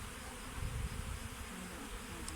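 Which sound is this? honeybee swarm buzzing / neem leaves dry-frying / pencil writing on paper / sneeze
honeybee swarm buzzing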